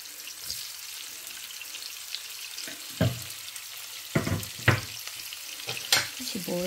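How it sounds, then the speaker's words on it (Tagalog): Onion frying in leftover fish-frying oil, a steady hiss and sizzle with several sharp scraping stir strokes and clatters standing out at close range. "Diyan na lang natin ilagay sa mantika na yan na pinagprituhan natin mga lalabs"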